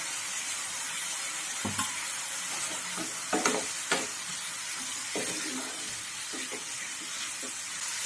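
Shrimp frying in a pan for spicy potato sambal, a steady loud sizzle with scattered scraping and clinking as the pieces are stirred, close up with no talking.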